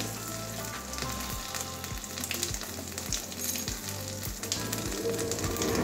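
Whole cumin seeds and two bay leaves sizzle steadily in hot oil, a continuous close crackle with soft rhythmic low thumps underneath, no voices.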